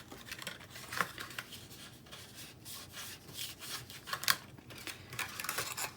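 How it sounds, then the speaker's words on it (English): Scissors snip away a small paper overhang on a craft project, a run of short, crisp cutting and rubbing strokes at close range, irregular in rhythm, with no talking. "you can take your scissors and just cut that little bit away"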